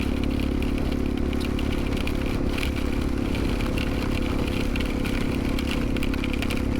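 Motorcycle ridden through rain on an open road, a steady engine drone mixed with dense wind and rain noise, loud and continuous for the whole stretch with no talk.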